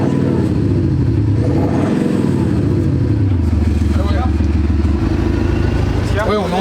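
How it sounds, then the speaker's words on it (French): Simulated exhaust sound from a Vitorrelli exhaust device on a motorbike in cold weather: a loud, steady engine-like rumble with revving swells that continues throughout. "c'est pas un vrai bruit, tu vois bien que c'est simulé"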